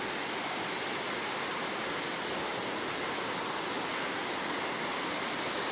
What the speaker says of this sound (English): just see the streams of water going down there.